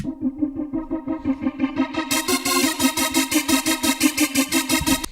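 A buzzy synth lead pulses in a steady rapid rhythm, growing brighter and fuller partway through, loud with no voices.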